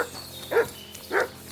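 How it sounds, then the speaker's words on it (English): Dog in the video game Kingdom Come: Deliverance II giving two separate deep barks about half a second apart over faint ambient game sound, with no talking. "Good dog, Matt."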